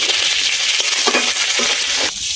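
Cut potatoes with cumin and green chilies frying in a pan, a steady loud sizzle broken by scraping stirring strokes, with no talking.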